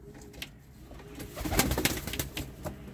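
Pigeons kept for flying coo close by in short soft repeated calls, with a faint rustle of activity around them.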